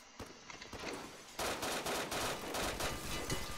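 Rapid gunfire in the Roblox game Blackhawk Rescue Mission 5, a dense stream of shots growing louder partway through and continuing steadily, no talk.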